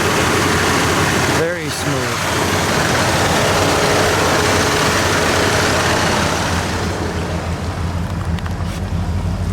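A 1978 Cadillac Eldorado Biarritz engine idles with a smooth, continuous low rumble close by, and a brief voice cuts in early on.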